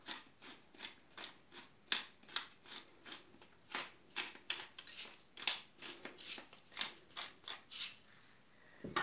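A pepper mill grinds fresh black pepper in close, quiet repeated ratcheting crunches, each twist a short gritty burst in an uneven steady rhythm, with no talking.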